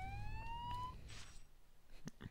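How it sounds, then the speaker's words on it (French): An ambulance siren in the Spider-Man 2 video game on GameCube: a rising wail sweeps upward at the start, then fades into scattered game effects and low rumble. "J'ai l'impression qu'une ambulance arrive."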